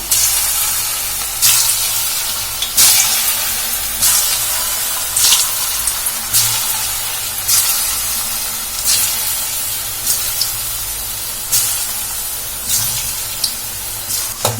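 Small rice-flour snack balls made from leftover rice deep-fry in hot oil, giving a loud, steady hiss broken by sharp bursts of spattering every second or so as pieces go in or are turned.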